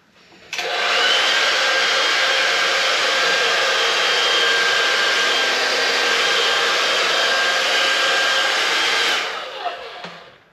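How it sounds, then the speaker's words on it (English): A hair dryer switches on and blows on bike chains with a loud, steady whooshing roar for several seconds, then cuts off, followed by a little handling noise. "gonna get the blow dryer on them"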